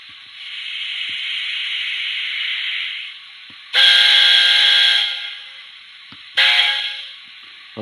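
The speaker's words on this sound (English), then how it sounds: "I love that whistle." A Soundtraxx Econami DCC sound decoder in a Hornby A4 model locomotive sounds its steam whistle: a long, soft hiss-tone, then a loud shrill blast and a shorter second blast, close and alone.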